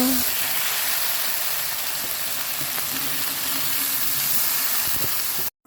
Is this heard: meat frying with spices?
yes